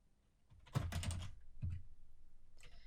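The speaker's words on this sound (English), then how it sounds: "You'd pretty much carry on typing." Bursts of clicky keystrokes on a computer keyboard while entering data into an Excel spreadsheet, loud and close from the middle of the clip, with a brief pause before more typing and faint tapping at the end.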